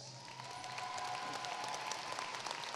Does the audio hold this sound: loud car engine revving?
no